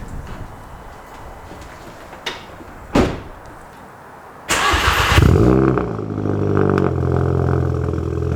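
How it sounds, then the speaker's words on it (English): A car door thuds shut, then a Volkswagen MK7 GTI engine cranks from cold and catches, settling into a steady idle. "so you guys are gonna get a cold start"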